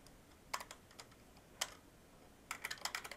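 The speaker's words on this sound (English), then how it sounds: "So I'd start typing until I find my height field" Bursts of typing on a computer keyboard: a quick cluster of clicks, a lone keystroke, then a rapid run of taps near the end, close and clear with no voice over it.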